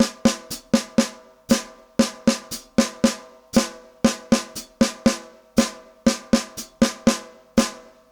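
A syncopation bar from an independence exercise on drums, played as straight eighths and quarter notes and repeated, crisp evenly spaced hits with short decays, close and alone.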